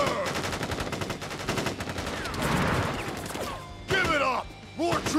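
Troops fire guns in Crisis Core Final Fantasy 7 Reunion, rapid loud bursts of automatic gunfire that rattle continuously, then break into shorter sharp volleys, with voices calling out between shots.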